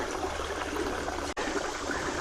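A small creek flows at a steady, low-level babble and rush that continues unbroken apart from a momentary dropout.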